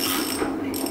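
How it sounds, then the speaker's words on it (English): A ratchet clicks during repair work on an Elliott 10M shaper, a loud dense mechanical rasp that fills the brief moment close up with no talking. "using a ratchet"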